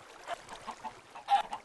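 Chickens from a spawner in the Minecraft FTB video game, faint short clucks and squawks repeating at irregular intervals, with a slightly louder cluster near the end.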